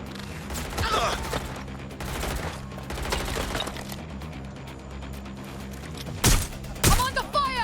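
Gunfire crackles in the action game Watch Dogs: Legion, with bursts of shots and rattling impacts in a busy game mix, then two sharp, loud cracks close together near the end, amid some voices.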